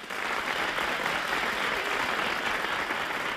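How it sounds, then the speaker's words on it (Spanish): Warm applause from a studio audience on a Spanish TV game show, a dense unbroken crowd clapping held at an even level for a few seconds. "vamos a brindarles un caluroso y simpático aplauso"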